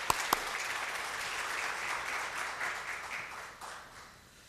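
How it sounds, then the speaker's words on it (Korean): A church congregation at a Korean-language Sunday service applauds to welcome the pastor, a steady, moderately distant wash of clapping lasting several seconds before tapering off. "우리 목사님 나오실 때 큰 박수로 환영하시겠습니다"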